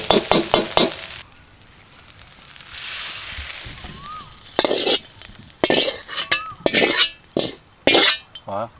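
Crispy fried catfish stir-fried dry in a pan over low heat with chili paste, soft sizzling and scraping stir strokes, largely under someone talking that comes and goes, with occasional clinks of the utensil.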